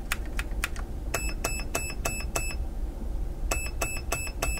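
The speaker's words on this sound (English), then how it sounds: "So it's beeping 3 times." An airsoft MOSFET unit, the Perun AB++, emits sharp electronic beeps: a few single beeps, then a quick run of beeps in groups, crisp and close, with no talking.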